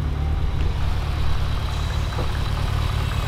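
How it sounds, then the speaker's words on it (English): A Mitsubishi Evo X turbo engine warming up at idle, a steady, close low rumble with no boost, holding even throughout. "Obviously we're not spooling at all, or I mean the turbo's spinning, but we're not making any boost right now."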